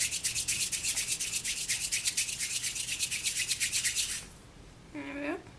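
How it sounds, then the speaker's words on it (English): Hands rub a piece of already-conditioned but cold polymer clay to warm it, giving a close, steady rhythmic rubbing and brushing that runs for about four seconds, then stops, followed by a short, faint vocal sound. "so we want to rub it in our hands"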